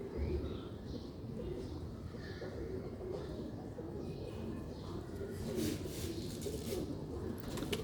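Ferozpuri pigeons coo in repeated soft, throaty phrases, close by and fairly steady, with a brief burst of brighter calls near the end and no voices over them.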